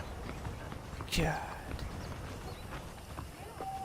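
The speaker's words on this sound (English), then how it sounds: "Horses are saddled up" Horse hooves clip-clopping at a walk in the Red Dead Redemption video game, faint and steady under a brief spoken word and other soft game sounds.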